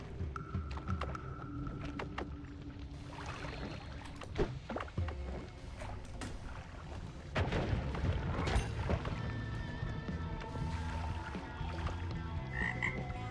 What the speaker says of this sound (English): These frogs make me really nervous.